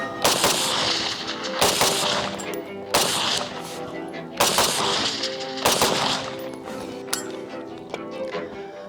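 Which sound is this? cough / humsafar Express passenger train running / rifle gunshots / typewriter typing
rifle gunshots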